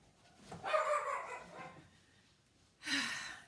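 Dogs barking at close range, two separate bursts: a longer cluster of yappy barks near the start and another sharp bark near the end, with quiet gaps between.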